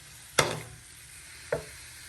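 Ginger-garlic paste sautés in a pan for tuna fish gravy, two sharp spatula scrapes a second apart cutting through a soft, steady sizzle, close up and without voices.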